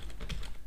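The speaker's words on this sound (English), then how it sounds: "and I can start typing" Quick keystrokes clatter on a computer keyboard while text is entered in the vim editor, a close, rapid run of taps with no speech over them.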